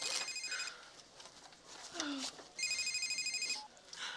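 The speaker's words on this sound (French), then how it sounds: "Ah, le téléphone, c'est pour moi!" A telephone rings in two bursts of electronic trilling at a shopping centre, the rings clear and fairly close with a few background voices and mall murmur between them.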